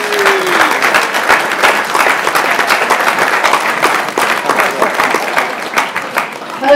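Crowd at a British Touring Car Championship event at Silverstone applauding a young driver introduced at a club Q&A: loud, sustained, dense clapping from many people, steady throughout with a faint cheer at the start.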